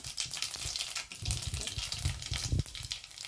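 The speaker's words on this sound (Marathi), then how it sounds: "तडतडतात जिरे बघा" Cumin and mustard seeds crackling in hot oil as a tempering, a dense close sizzle with rapid pops and spatters throughout.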